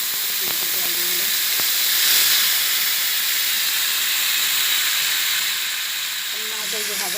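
A little water poured into a hot pan of turmeric and spices for a tilapia fish curry sends up a loud, broad steaming hiss that swells and then settles, with a voice briefly heard at the start and end.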